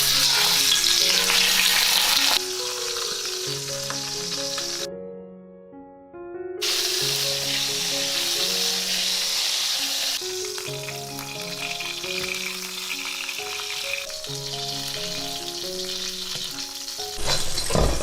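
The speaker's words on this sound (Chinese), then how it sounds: "把鸭皮这一面先放下来煎，" Duck pieces laid skin-side down in hot oil in a wok sizzle and spit loudly and steadily, with a short pause mid-way before the frying resumes, under background music.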